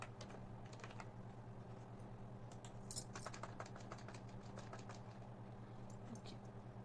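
Faint keystrokes tap on a computer keyboard in irregular quick bursts while a form is filled in, over a low steady hum in a quiet room.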